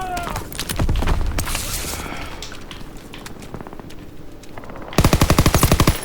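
Machine gun fire in a Normandy landing video game comes in rattling bursts over constant battle noise, ending in a loud, fast, evenly spaced burst in the last second.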